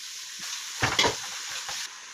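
Tomatoes sizzle in a pan for upma as a spoon stirs them, a short burst of close scraping over a steady frying hiss, with no voices.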